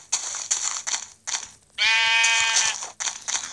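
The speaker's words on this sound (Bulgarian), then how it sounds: "Съжалявам овца, но ми трябва вълната." A Minecraft sheep gives one clear, loud bleat in the middle, surrounded by brief clicking and tapping game sounds.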